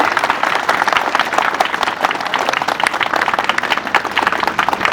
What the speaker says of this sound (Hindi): बहुत जोरदार ताली से स्वागत होना चाहिए।